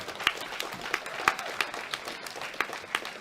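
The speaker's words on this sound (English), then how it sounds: "Give him a round of applause." Applause at a powerlifting championship medal ceremony for a junior bronze medalist, fairly faint crowd clapping with a few sharper individual claps popping out over a hall murmur.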